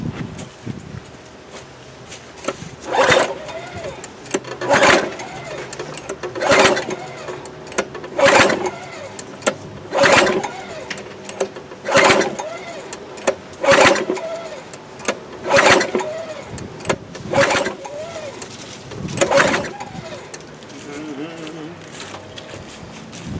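A Craftsman lawn mower engine is pulled over again and again, with about a dozen loud, evenly spaced pull-start bursts that sputter without catching, near and loud, and background noise between the pulls.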